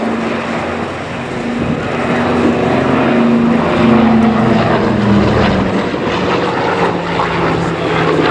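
A propeller-driven transport aircraft passes overhead at the Duxford Flying Legends air show, its loud droning engines holding steady with a slowly shifting pitch over several seconds.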